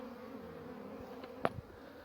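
Honeybees buzz at the entrance of a wooden hive, a faint, steady drone with one brief louder pass as a bee flies close, and no voices.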